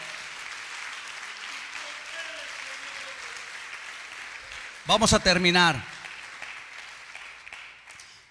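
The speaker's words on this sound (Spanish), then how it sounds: "Dale un fuerte aplauso al Señor." Hands clap together in sustained applause from a church congregation, a dense steady patter that continues as someone briefly speaks over it midway.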